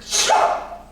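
A single sharp sneeze bursts out close by, followed by a brief trailing breath.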